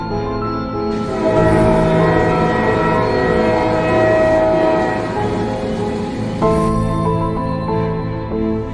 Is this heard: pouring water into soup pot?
no